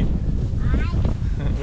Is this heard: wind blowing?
yes